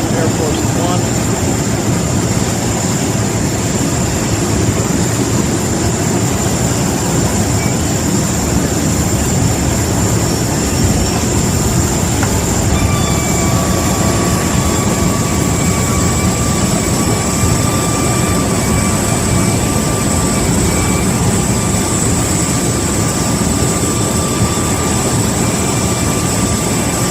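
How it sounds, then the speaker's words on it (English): Jet engines of Air Force One roar steadily and loudly throughout as the aircraft takes off, a continuous broadband rumble with a high whine riding on top. "Trump boarding the new Air Force One."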